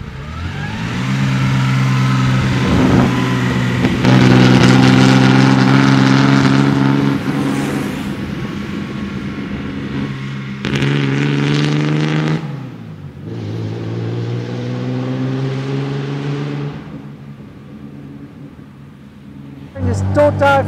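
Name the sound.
1936 Wanderer W25K car engine while driving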